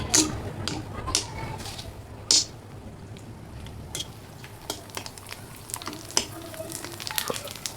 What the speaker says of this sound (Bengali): আমি এখানে চটপটির জন্য ফুচকা ভাজা নিতেছি